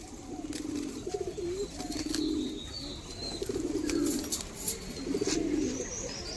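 A female pigeon coos in four rolling, low phrases at a steady pace, close and clear against light background noise.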